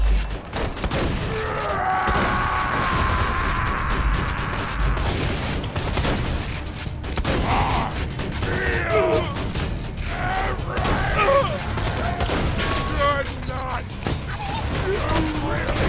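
Sentry gun in Borderlands firing rapid bursts amid dense gameplay noise, heavy popping fire and booms layered with clanking mechanisms, loud and continuous, with voices talking over parts of it.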